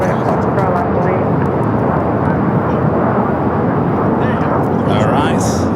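A jet airliner roars on the runway at LAX airport, a loud broad continuous engine rumble up close, with radio chatter faintly audible under it.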